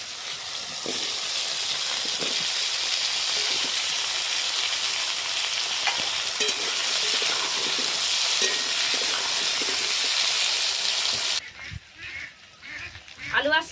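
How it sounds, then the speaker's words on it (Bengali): Loud, steady sizzling of potato and onion frying in a pan, a continuous hiss that cuts off near the end, followed by faint talk and clatter. "এবার আমি আলু আর পেঁয়াজটা দিয়ে দিচ্ছি একসাথে"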